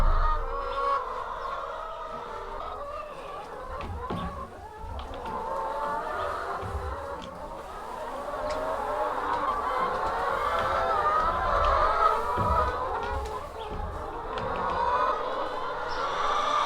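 Chickens on a farm clucking and murmuring in a flock, with soft overlapping calls and occasional louder squawks amid light shuffling background noise.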